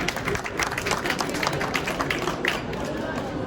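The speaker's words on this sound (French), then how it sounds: "on l'applaudit encore Géraldine" An audience at the SIA agricultural show applauds Géraldine, a steady dense patter of clapping from a crowd that fills the whole stretch, while a presenter speaks over it.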